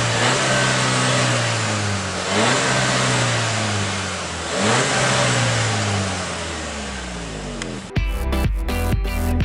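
A 2014 Seat Leon SC FR with a 1.4 TSI 140 PS petrol engine revs loudly and close up in repeated rising and falling sweeps, then shifts abruptly to a rougher, pulsing engine note near the end.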